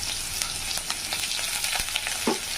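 Mustard seeds, urad dal and curry leaves crackle and spit in hot oil while an Andhra-style ivy gourd fry is started, a steady close sizzle with scattered sharp pops.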